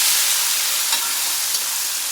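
Tomatoes fry in a pan with ginger and garlic for biryani, giving a loud, steady hiss of sizzling oil up close with no pauses.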